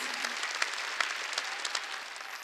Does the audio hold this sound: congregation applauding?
yes